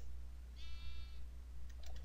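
A sheep bleats in a Minecraft game, a single short, nasal bleat heard clearly over a steady low hum, followed by a few faint clicks.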